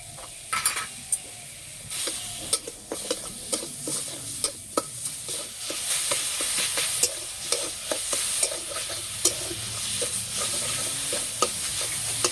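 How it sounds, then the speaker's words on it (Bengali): Drained chhena with sugar and cardamom powder is stirred and dried in a wok, with a spatula scraping and tapping in a repeated rhythm over a faint sizzle. "ছানাটা একদম শুকনো শুকনো করে রান্না করে নিতে হবে।"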